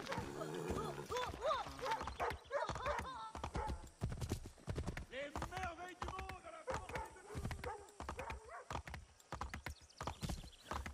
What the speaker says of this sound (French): Mon cheval, tu viens là.